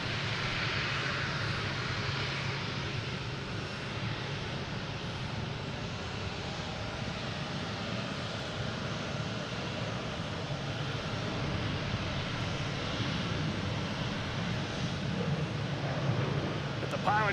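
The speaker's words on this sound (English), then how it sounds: "We have Iberia here, passing in review from Madrid, A321neo." An Iberia Airbus A321neo from Madrid passes at Boston Logan airport, its engines producing a sustained, fairly loud roar with a low rumble and airy hiss, steady for the whole stretch with faint talk mixed in.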